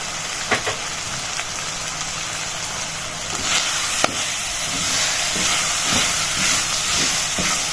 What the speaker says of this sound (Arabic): انا مش هقلبها بس كتير، هخليها تاخد تشويحه معاهم